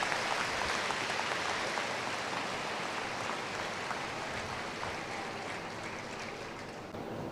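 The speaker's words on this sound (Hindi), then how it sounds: "उनका करतल ध्वनि से तालियां बजाकर स्वागत करेंगे सभी" An audience claps to welcome the secretary of the Udasin akhara, a broad and continuous roar of hands that sounds muffled and rain-like, holding steady before easing slightly toward the end.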